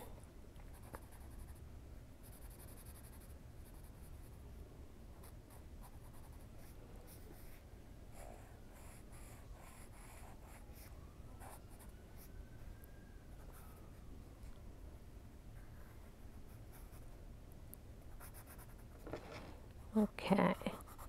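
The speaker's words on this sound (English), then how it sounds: "I'm just using a number 2 soft pencil." Soft number 2 pencil drawing on paper, a quiet continuous scratchy scraping that runs steadily for around twenty seconds, faint and close, with a few sharper louder strokes or taps near the end.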